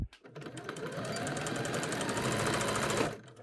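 Sewing machine stitching a bodice to a skirt in a steady, continuous run of rapid needle strokes, close and fairly loud for about three seconds, then stopping.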